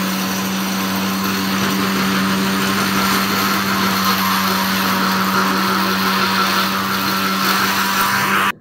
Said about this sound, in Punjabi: ਸਿੱਧਾ ਹੀ ਬਸ ਗਰੈਂਡਰ ਕਰ ਲੈਣਾ ਆ, ਸਿੱਧਾ ਮਿਕਸੀ 'ਚ ਕਰਕੇ ਇਹਨੂੰ ਗਰੈਂਡ